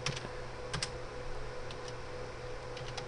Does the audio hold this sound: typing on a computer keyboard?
yes